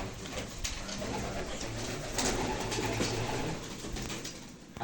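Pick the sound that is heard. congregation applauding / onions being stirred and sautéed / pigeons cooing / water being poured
pigeons cooing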